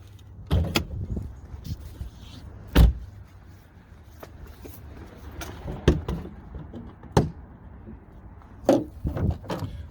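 Hood release and latch clunks on a 2016 Mercedes S550 (W222), several sharp clicks and thuds spaced out over a low idle-like background, close and fairly loud.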